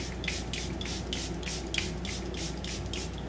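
Charlotte Tilbury Airbrush setting spray is misted onto a face in a rhythmic series of about nine short, close hissing spritzes over a low background hum.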